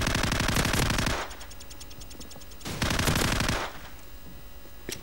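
Rapid machine gun bursts in the video game Call of Duty 4, with two loud sustained volleys separated by a quieter stretch.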